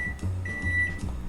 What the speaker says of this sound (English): then we're gonna microwave it for about 2 minutes